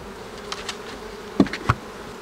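Honeybees from a swarm colony being inspected in a Quebec apiary give a few short, close buzzing passes over a quiet background, with no talk.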